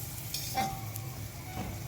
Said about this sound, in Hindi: निकाले हुए मटर डाल के इसको 2 से 3 मिनट के लिए अच्छी तरह भून लेंगे